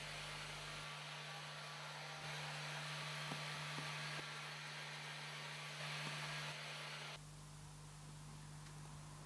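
A heat gun drying primer on dyed leather blows with a steady, broad airy roar and low hum, continuous and close, shifting tone slightly as it is moved.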